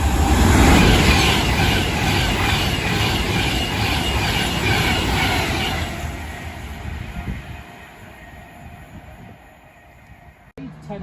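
An Avanti West Coast Class 390 passing through Nuneaton station, a loud rushing roar of carriages and wheels that fades away, with a voice briefly audible.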